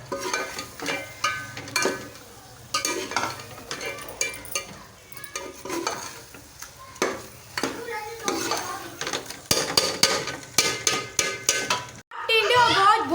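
Mutton and tinda (apple gourd) fry in a pot while a spoon repeatedly scrapes and clanks against the metal, over a steady background sizzle with brief faint voices.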